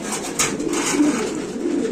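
Caged pigeons at a pigeon seller's stall coo in low, throaty, overlapping rolls, close and continuous, with no voices heard.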